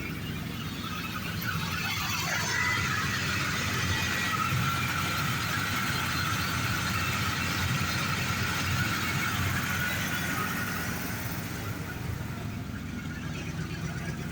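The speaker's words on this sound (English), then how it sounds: "Got a little bit of an exhaust leak in the front." A 2000 Mercury Grand Marquis GS idles with a front exhaust leak, giving a steady, rough, breathy engine rumble with a faint squeal running through it, continuous and even for the whole stretch, with no voices.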